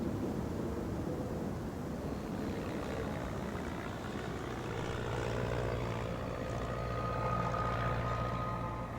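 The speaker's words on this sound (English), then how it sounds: "I hear this plane," A small plane drones in the Australian outback, a steady propeller hum that holds for the whole stretch and grows a little stronger toward the end, with no other sounds.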